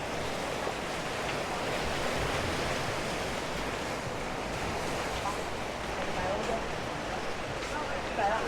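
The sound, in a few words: waves on a busy beach in Hua Hin, Thailand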